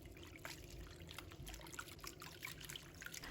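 Clean water trickles and pours steadily over salted, softened cabbage in a bowl, a continuous splashing flow heard close up with no talking.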